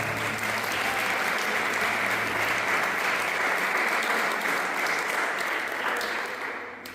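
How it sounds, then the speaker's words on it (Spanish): Steady, sustained applause from a church congregation at a Sunday service, dense and even for the whole stretch before tapering slightly at the end. "Denle un fuerte aplauso al Señor, por favor"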